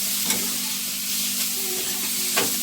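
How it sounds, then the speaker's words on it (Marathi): Boiled prawns fry in a pan for chili prawns. A close, even sizzle is broken by three short scraping stirs of a spatula, with no voices. "मस्त फ्राय करून घ्यायचं"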